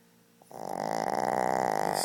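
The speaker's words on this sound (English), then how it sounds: "a snoring Shih Tzu." A Shih Tzu snores loudly and steadily after a brief quiet start, each rasping breath close and strong, building into a continuous rhythmic rattle.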